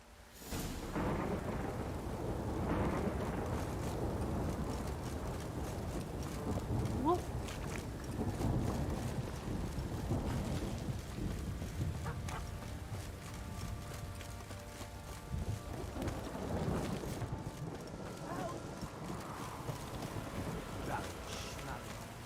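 Heavy rain pours in The Witcher 3 while thunder rumbles, horse hooves clip-clop along and a voice talks over the storm throughout.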